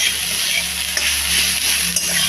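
Radish greens being stirred in a hot pan, steady loud sizzling and frying hiss throughout with a couple of brief scraping stir sounds, no talking.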